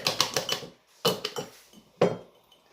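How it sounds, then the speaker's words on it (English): A knife dices tomatoes on a cutting board in a home kitchen, making close, crisp tapping chops in three quick bursts separated by short pauses. "start dicing my tomatoes"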